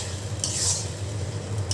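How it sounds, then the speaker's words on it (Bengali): Beef and potatoes are stirred in a pot, a close scraping stir over a low sizzle with a couple of brief bright scrapes of the spoon against the pot. "আমি একটু পরপর ঢাকনা খুলে বারবার নেড়ে দিচ্ছিলাম"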